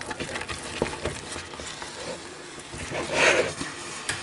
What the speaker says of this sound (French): Je remue un peu plus énergiquement.